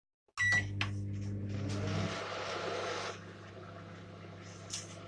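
A microwave oven hums steadily while melting chocolate and butter, a loud low drone with fan noise that starts abruptly, shifts partway through and continues alone.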